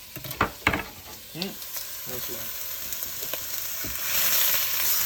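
Garlic and ginger frying in a small amount of oil in a pan, a steady soft sizzle with a few clinks and knocks of a utensil early on, the hiss growing a little louder toward the end.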